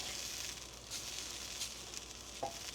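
Shishito peppers blister in a pan with a soft, steady sizzle and faint crackles, quiet and close, with an occasional small pop or stir.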